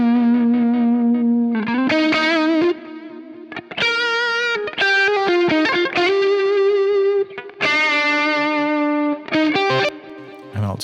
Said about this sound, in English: The Echo Boy on a Echoplex setting with a dual echo of a quarter note and a dotted quarter note